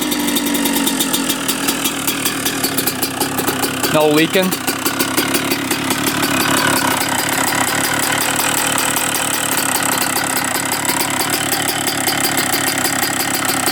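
A 2-stroke dirt bike engine that sat for over fifteen years runs and idles with a buzzing, crackling rasp, loud and close, briefly revving midway while someone talks over it.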